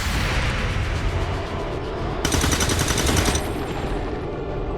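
Sustained gunfire from an XCOM 2 battle, dense bursts of shots with a brighter, harder volley in the middle, loud and continuous over a rumbling game backdrop.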